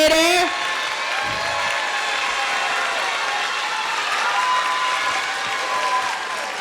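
An audience gives sustained, loud applause for a school's 8th grade educator at an intermediate school event, steady clapping that fills the whole stretch after a brief spoken opening.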